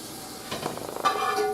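Hot sausage, onions and garlic sizzle in a pan with a soft, steady frying hiss that swells as food goes in.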